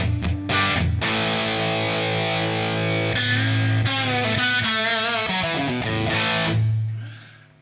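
A heavily overdriven electric guitar through a Fender Deluxe amp pedal rings out loud chords with a crunchy, saturated 70s Marshall-like tone, sustaining and then fading at the end; no voices.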